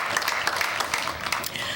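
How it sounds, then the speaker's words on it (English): Applause from an audience at a city birthday celebration, steady broadband clapping that fills the whole moment without letting up. "they deserve a round of applause too"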